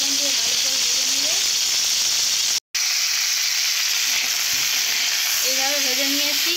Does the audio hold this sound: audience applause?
no